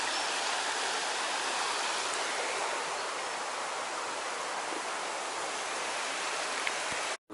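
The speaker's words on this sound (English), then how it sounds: "By the side of the stream that comes down from Midwell, and then just round the corner is the waterfall." Steady rushing of a mountain stream beside the lake at Llyn Ogwen, a broad unbroken wash of flowing water that holds near and even throughout before cutting off abruptly at the very end.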